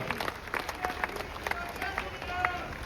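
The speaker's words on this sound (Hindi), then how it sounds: "जोरदार तालियां बजाइएगा" Audience applause at a natural farming conference in Hisar: scattered clapping spread across the hall, steady and moderately loud, with a crowd murmuring underneath.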